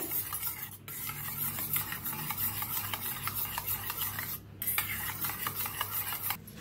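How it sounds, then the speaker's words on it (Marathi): Beaten egg mixed with salt and turmeric, stirred briskly in a bowl, a continuous close scraping and whisking with two brief pauses. "आता हे भी मिक्स करून घेऊया।"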